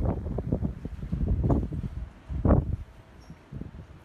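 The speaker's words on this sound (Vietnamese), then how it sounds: "Gió rất mạnh luôn các bạn ạ." Strong gusting wind buffets the microphone on the summit of Mau Son mountain in Lang Son, a close, rumbling roar that swells and fades in uneven bursts with no talking.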